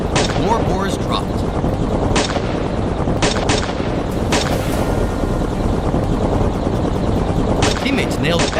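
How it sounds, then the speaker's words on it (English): Gunfire during a wild boar hunt: several sharp shots crack over loud, continuous rumbling background noise, spaced irregularly and heard at moderate distance. "my brother's shots rang out from the other side"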